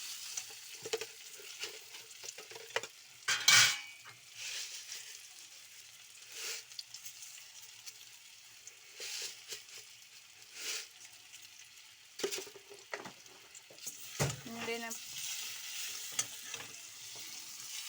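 Almonds fried with sugar in a pan sizzle steadily while a utensil stirs and scrapes, with occasional louder clatters against the pan, close and fairly quiet.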